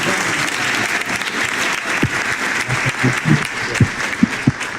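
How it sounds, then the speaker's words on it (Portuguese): A church congregation applauds as a pastor is received at a worship service, sustained clapping from many hands with some sharper, louder claps standing out near the end. "Aplaudindo Jesus, recebemos o pastor Flávio Esteves."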